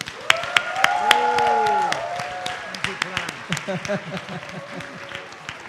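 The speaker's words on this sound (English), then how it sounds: "why don't you share big thanks to ADB and his colleagues by, clapping hand." Audience clapping at the closing session of a forum, a scattered burst of hands under a speaker's voice that keeps talking throughout, fading to sparser claps.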